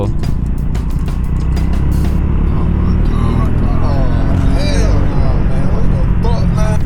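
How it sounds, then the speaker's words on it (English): A motorcycle engine roars loudly and continuously as the rider revs the throttle, with a voice talking over the constant engine and wind noise. "as I say it, I ring the throttle"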